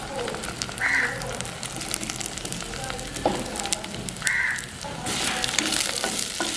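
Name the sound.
sautéing onions in a pan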